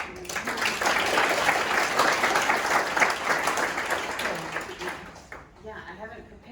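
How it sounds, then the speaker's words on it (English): Dense applause from a conference audience honoring a retiring academic, sustained and loud for about five seconds before thinning out, with a few voices emerging as the clapping fades. "So one more round of applause."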